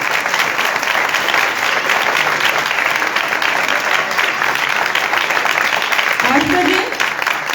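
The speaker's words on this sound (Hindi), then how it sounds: "आप जोरदार तालियां बजा सकते हैं।" A congregation claps loudly to welcome guests during a church worship service in New Shakrial, Islamabad; dense, steady applause fills the room and fades toward the end, with a brief voice rising near the close.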